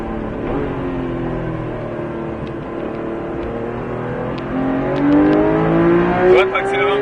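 A Porsche 991 GT3 engine climbs in pitch as it accelerates on a race track, revving louder toward the end with a brief sharp squeal, heard close and continuous.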